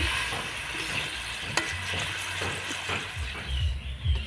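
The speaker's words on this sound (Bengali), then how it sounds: "আমি যে গুড় আর চিনি জলটা দিয়েছি এটা দিয়ে কিন্তু আমটাকে আমি সিদ্ধ করে নেব।" Raw mango simmering in jaggery and sugar syrup in a pan, a soft steady bubbling hiss close by, with a few light knocks and low rumbling gurgles toward the end.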